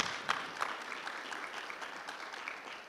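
A room of people claps at a school board meeting, steady and moderately distant, with a few sharper claps standing out early before the applause thins.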